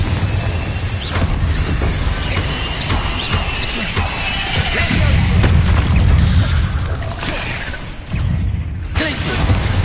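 Incendio fire spells cast in Hogwarts Legacy, loud booming bursts and crackling impacts over a dense, continuous game battle soundscape, with a voice talking.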